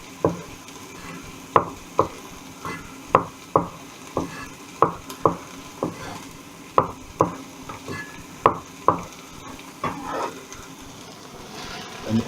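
Onions and fresh tomatoes cooking in a pan for a vegetable curry, with a soft steady sizzle broken by a regular series of sharp spoon scrapes and stirring knocks, close and moderately loud, no talk.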